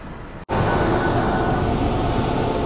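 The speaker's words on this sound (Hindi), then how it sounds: "अभी आ गई है महाबोधि एक्सप्रेस, गया से नई दिल्ली जाने वाली" The Mahabodhi Express from Gaya to New Delhi rushes past during an overtake, with a steady loud rumble and clatter that bursts in suddenly and stays constant, heard from a nearby train.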